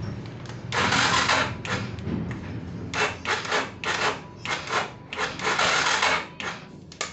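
An electric starter cranks a Yamaha Scorpio motorcycle engine in repeated grinding bursts, straining and churning without the engine catching, close by.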